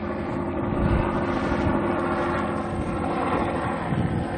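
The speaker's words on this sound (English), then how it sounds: "It's like a helicopter overhead." A steady, loud engine drone with throbbing rotor-like pulsing, like a helicopter hovering overhead, continuous throughout.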